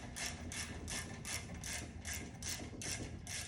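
A ratchet tightens a part on a springer fork assembly held in a vise, giving a steady run of about nine rhythmic clicking bursts, close and fairly quiet, with no talking.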